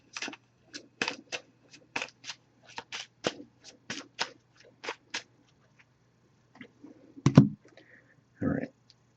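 An oracle card deck, the Messages of Love deck, is shuffled by hand in a run of short, crisp riffling bursts, close and quiet, ending with a couple of soft voice sounds.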